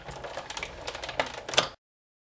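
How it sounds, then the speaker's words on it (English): Flirty Flamingo cardstock fed through a die-cutting machine with framelits dies, giving a close, steady mechanical grinding and clicking for under two seconds before it stops abruptly. "I'm going to go ahead and cut out the Flirty Flamingo cardstock with this image right here from the framelits"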